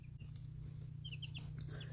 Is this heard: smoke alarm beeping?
no